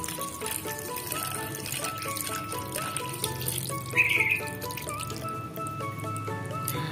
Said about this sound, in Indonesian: Yuk, kita kasih santan ya guys.